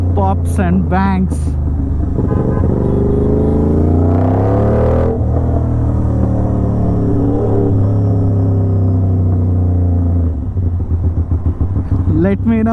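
Aprilia RS 660 with an SC Project titanium exhaust, a heavy, close engine rumble swelling and dropping through revs, with occasional sharp pops and a choppy, stuttering burble as the throttle closes near the end.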